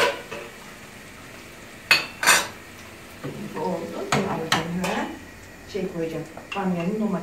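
A utensil clinks and scrapes against a pot as food is stirred while cooking, with someone talking over the kitchen sounds.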